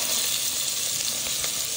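Onions dropped into hot oil in a pressure cooker give a steady, close, bright sizzle that holds evenly through a short moment with no voices.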